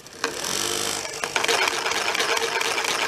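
An electromagnetic motor coil device, driven to move in both X and Y while held by a ring on its base, starts up and runs with a loud, steady mechanical whir and buzz that fills the clip without a pause.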